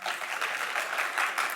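Audience applause at a leadership and innovation summit showcase, a steady, even patter of many hands clapping at moderate distance, with no talking over it.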